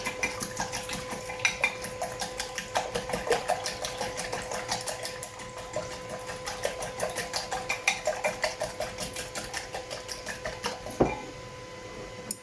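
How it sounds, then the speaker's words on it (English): Eggs whisked in a bowl, a fast, steady metallic clatter of the whisk against the sides that runs on for the whole stretch, close and fairly loud, no voices. "just give them a whisk up."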